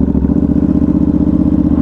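A Ducati Hypermotard fitted with BHPUK exhaust cans runs loud and close, its engine throbbing with a steady, lumpy pulse through the whole stretch, with no voices over it.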